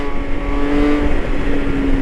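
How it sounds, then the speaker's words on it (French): A BMW K 1600 GTL six-cylinder touring motorcycle revs under way, a smooth, loud and continuous engine whine rising slightly in pitch, recorded close on the moving bike with steady wind rush. "Le moteur il est phénoménal."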